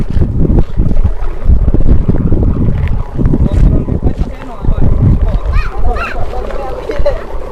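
Strong wind roars and buffets the microphone throughout, loud and steady, on a clear day while kites fly; people talk over it.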